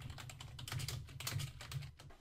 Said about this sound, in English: when you're done typing in your search terms